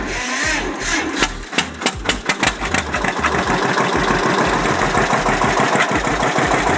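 A vintage 1952 John Deere A two-cylinder tractor engine cranks over with slow uneven pops, then settles into a loud, steady, rapid chugging rhythm, close up with no talking.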